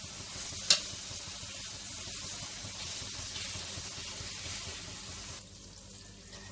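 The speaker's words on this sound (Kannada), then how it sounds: "ಹೀಗೆ ಓಪನ್ ಆಗೇ ಫ್ರೈ ಮಾಡಬೇಕಾಗತ್ತೆ, ಮುಚ್ಚಿಡಬೇಡಿ" Fenugreek leaves fry uncovered in oil with a soft, continuous sizzle, a sharp clink near the start and gentle stirring throughout, fairly quiet and with no talking.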